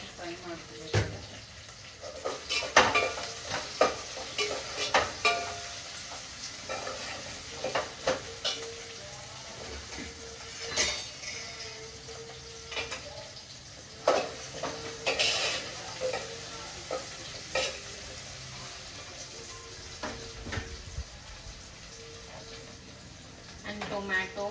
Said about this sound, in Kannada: ಅದು ಹಸಿ ವಾಸನೆ ಹೋಗೋವರೆಗೂ ಫ್ರೈ ಮಾಡ್ಕೋಬೇಕಾಗುತ್ತೆ